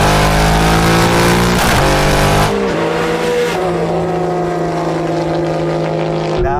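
A Porsche GT3 RS and a Mercedes-AMG GT R race past with loud, high-revving engines, a roaring drone whose pitch climbs, drops at a gear change, then climbs again.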